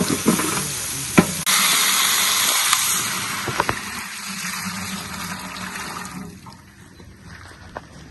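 Rice being tempered in hot oil in a home kitchen, a loud continuous sizzle with occasional stirring clatters that gradually quiets toward the end.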